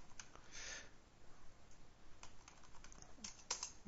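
Quiet, close computer keyboard typing as a website name is entered: irregular runs of soft key clicks with brief pauses, no speech.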